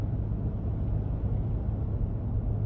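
Inside the cabin of a 2022 Ford F-150 Platinum cruising on the highway, only a soft, steady low road rumble with faint hiss, quiet and without voices.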